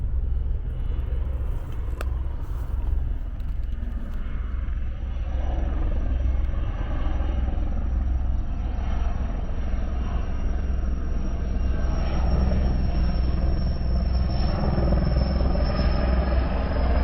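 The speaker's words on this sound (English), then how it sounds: "here come the helicopters" Helicopters thrum steadily overhead in San Diego, California, a continuous low whirring rumble that stays loud throughout.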